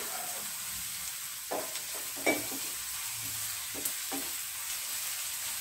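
Onion and ginger sautéing in a pan for egg roast, a faint, steady low sizzle with a few scattered spoon scrapes and taps, close but quiet.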